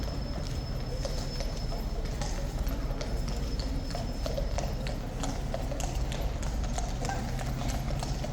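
Steady clip-clop of horses' hooves on a hard surface, continuous and fairly close, with crowd murmur and outdoor ambience behind.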